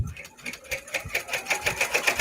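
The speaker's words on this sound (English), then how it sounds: "now we're going to go ahead and watch this baby embroider" An embroidery machine stitches a bag strap, its rapid needle pulses speeding into a steady, close mechanical rhythm that grows louder and more regular, with no one speaking.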